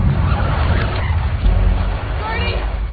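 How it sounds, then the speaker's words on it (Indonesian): A truck's tyres spin and skid on a slick, slippery road near a bridge as it slides backward, a loud, continuous grinding rush of tyre noise and engine. "Jalan yang begitu licin membuat truk mundur kembali."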